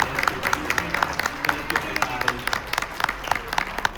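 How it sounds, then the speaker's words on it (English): Audience applause for comic book panelists Naomi Franquise, Brian Moss and Jim Miller at a comic book panel, a steady patter of clapping hands with sharp individual claps standing out, fairly close and lasting throughout. "a round of applause for Naomi Franquise, Brian Moss, and Jim Miller"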